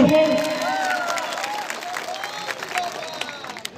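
A crowd at an Adivasi political rally in Margherita applauds and cheers loudly, a dense wash of clapping that slowly fades, with scattered voices over it.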